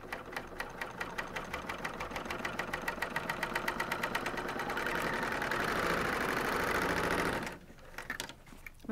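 A coverstitch serger runs a seam on a sewn bag, a steady fast mechanical chatter that speeds up into a continuous whir before stopping abruptly, with a few faint handling clicks afterward.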